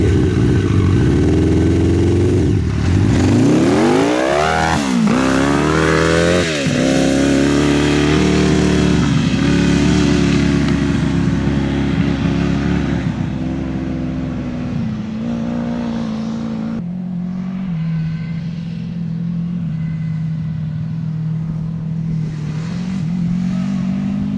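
An off-road buggy powered by a Honda CBR 1000 engine revs loudly nearby, with rising and falling sweeps early on, then settles into a steady, strong drone that continues throughout, with no voices.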